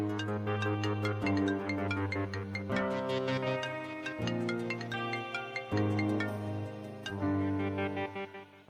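A phone ringtone plays a bright, repeating electronic melody, loud and continuous for several seconds in a drama scene, with no voices over it.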